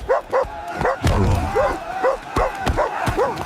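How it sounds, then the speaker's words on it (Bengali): A dog barks repeatedly in short, sharp bursts close by, a rapid rhythmic series of loud yips. "কুকুরটা আমার মাংস চায়"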